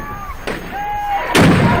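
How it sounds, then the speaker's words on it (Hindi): Firecrackers and fireworks bang at a Ravan Dahan effigy burning on a Dussehra ground in Yamunanagar, Haryana: two loud close bursts about a second apart, the second heavier, with a whistling tone between them. "पटाखों की गूंज और आतिशबाजी के बीच रावण दहन।"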